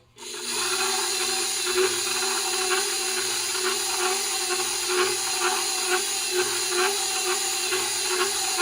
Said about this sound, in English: I'll move it away from the mixer so I can talk to you without the noise